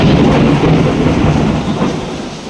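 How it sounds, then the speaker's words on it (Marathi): Heavy, slanting monsoon downpour pounding hard, a dense, loud, steady roar of rain that eases only slightly toward the end, with no voices. "आवाज बघितला एवढा जोरात पाऊस सुरू आहे"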